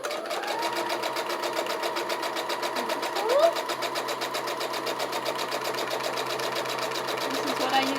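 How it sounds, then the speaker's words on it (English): A sewing machine runs steadily as it stitches through the layered pages of a handmade junk journal, giving a close, continuous mechanical whir with a fast, even rhythm throughout. "This is what I use my sewing machine for."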